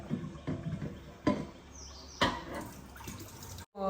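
Dirty, sandy sweet potatoes get scrubbed and rinsed in water by hand, giving soft intermittent splashes and sloshes with a few sharper knocks, fairly quiet and close, ending in a brief dropout.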